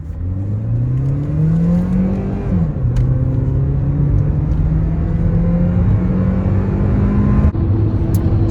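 A Hyundai Veloster accelerates hard in sport mode with traction control off, its engine droning loud and close in a rising pitch, a brief dip at a gear change, then climbing again.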